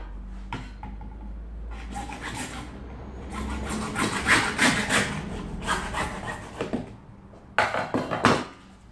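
A small hand saw cuts a piece for a balloon confetti applicator with repeated rasping back-and-forth strokes, close and moderately loud, ending in a few sharper strokes.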